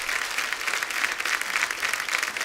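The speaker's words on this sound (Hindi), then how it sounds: "एक बार जोरदार तालियां जीनत जी के लिए, अनीता जी के लिए," A studio audience at The Kapil Sharma Show applauds guests with steady, dense clapping that stays loud and even throughout, with no voices over it.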